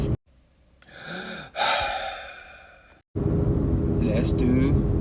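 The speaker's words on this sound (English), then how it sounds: "let's take a deep breath." A deep breath drawn in a small aircraft cockpit: a breathy inhale followed by a long exhale, close to the microphone, before a steady engine rumble takes over.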